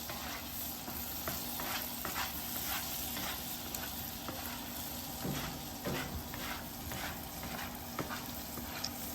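Butter with Worcestershire sauce and garlic warming on a switched-off griddle, giving a steady low sizzle with scraping and stirring taps spread through it, no voices.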